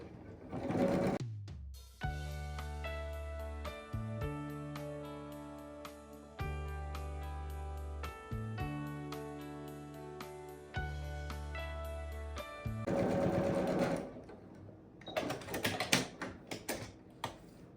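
Sewing machine stitching fabric for a headband, rapid mechanical needle clatter in several runs separated by short pauses, close and clear, with brief handling noises at the start and end.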